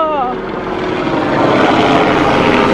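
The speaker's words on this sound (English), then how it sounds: "I've never seen a helicopter out here before." Helicopter or small drone flying overhead outdoors, a loud steady rotor drone with a brief whine at the start, sustained throughout with no speech over it.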